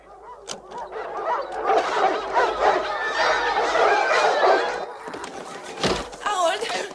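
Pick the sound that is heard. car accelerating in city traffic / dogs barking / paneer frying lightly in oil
dogs barking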